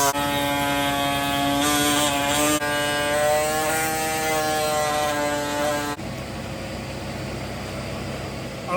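Power tool cutting a fiberglass front bumper for a 1964/65 Mercury Comet gasser, a steady high whining buzz that runs for several seconds, then stops abruptly and leaves a quieter background hum.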